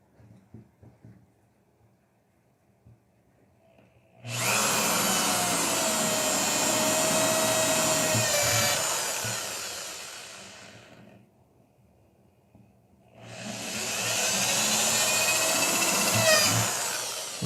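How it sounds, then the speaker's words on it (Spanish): A power drill bores a hole for a U-bolt while a homemade Yagi TV antenna is being built, running in two long, loud, steady whirring bursts with a quiet pause between them. "aquí debo de realizar la perforación para cruzar el tornillo tipo U"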